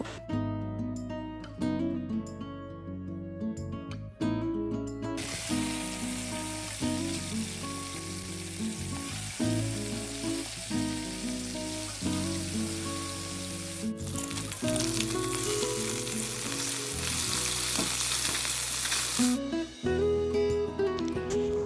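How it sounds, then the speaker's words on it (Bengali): Tengra fish coated in salt and turmeric frying in a pan for a Bengali curry with bottle gourd; a steady, fairly loud broadband sizzle builds and holds for most of the stretch beneath continuous background music. "মাছগুলো ভালো করে লবণ হলুদ দিয়ে মাখিয়ে নিয়েছি আমি এখন ভেজে নেব"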